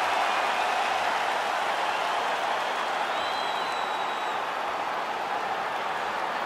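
A capacity arena crowd cheers and applauds before a heavyweight championship fight in the UFC 5 video game, a dense, steady roar of massed voices and clapping with faint whistles, with no distinct speech.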